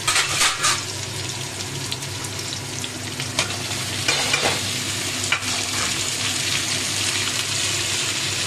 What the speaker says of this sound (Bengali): এগুলো গোটা গোটাই সব তেলের মধ্যে দিয়ে দেবো